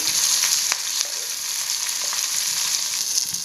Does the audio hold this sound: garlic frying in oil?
yes